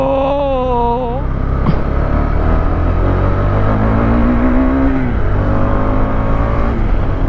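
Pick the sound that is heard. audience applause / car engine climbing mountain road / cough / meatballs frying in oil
car engine climbing mountain road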